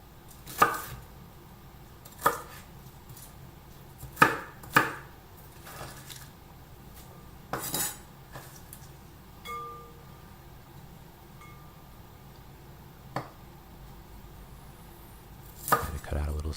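Broccoli chopped with a knife on a cutting board for a nori salad, sharp isolated thuds spaced irregularly a second or more apart, close and crisp against a quiet room, no voices.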